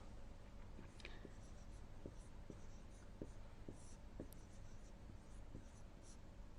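Chalk or pen writing during a Class 4 maths lesson, a steady series of short scratchy strokes and taps at close range over a constant low background hum, with no talking.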